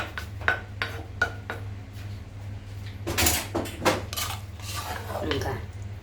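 Eggplant soup stirred in a pot with a utensil: a series of clinking metal taps and scraping knocks against the pot, moderately close, with quieter kitchen clatter in between.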